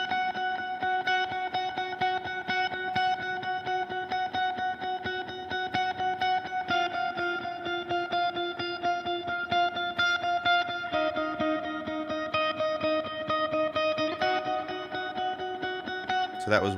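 Lead electric guitar plays the chorus part of a worship song, a steady stream of sustained melodic notes at moderate level with a dense harmonic texture and no talking.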